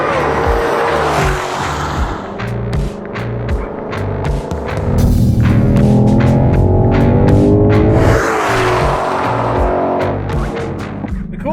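A 2020 Ford Mustang Shelby GT500 driven hard on a racetrack, its loud engine climbing through the gears with repeated upshift dips and a sustained high-speed roar, heard close from inside the car with no talk.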